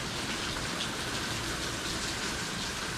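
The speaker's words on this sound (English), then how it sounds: "It's been raining torrentially" Heavy torrential rain pours down steadily in a dense, unbroken hiss, loud and close, with no voices and no pauses over an hour-long downpour at a backwoods house.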